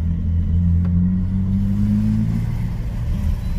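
A BMW 320 E21 with its six-cylinder engine revs in a steady, loud, low rumble that climbs slightly, holds, then eases off, close and with no voices.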